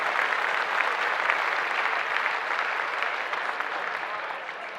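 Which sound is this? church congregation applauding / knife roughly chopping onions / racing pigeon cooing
church congregation applauding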